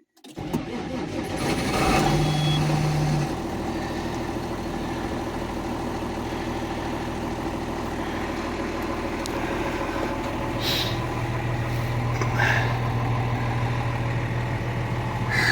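A T-150 tractor fitted with a MAN D0826 engine cranks and starts, then settles into a loud, steady, rumbling idle that continues close by with a faint, constant whine.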